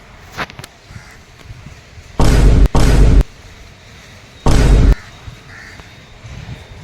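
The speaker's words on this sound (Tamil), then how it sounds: "இந்த மாதிரி காக்கா கத்துறதும்" A crow caws outdoors in three harsh, loud bursts: two close together, a short pause, then one more. Quiet background noise fills the gaps between them.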